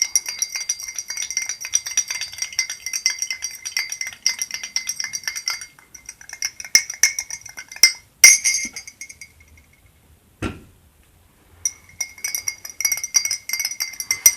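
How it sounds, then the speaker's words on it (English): A spoon stirs tea in a glass, giving bright repeated clinks and rattles that run steadily and fairly close, pause briefly twice, then resume. "Stir it."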